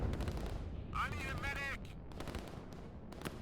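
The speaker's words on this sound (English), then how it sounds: "Now there is a lot more artillery." Artillery fire in the real-time war game Line War, a steady rumble of booming explosions and thumps under continuous spoken commentary, with one sharp crack near the end.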